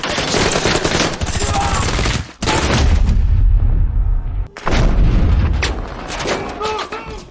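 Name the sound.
gunfire shootout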